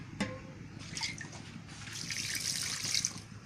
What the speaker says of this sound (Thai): เติมน้ำเข้าไปนะคะ